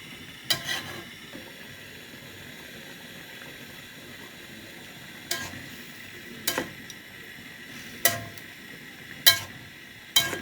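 Beef and liver frying together in a pan, stirred in short bursts: a handful of scraping strokes spaced apart over a soft, steady low sizzle, with no voices.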